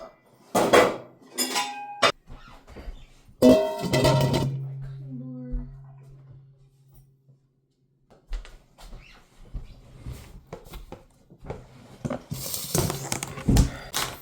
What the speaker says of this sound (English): let me get my pots up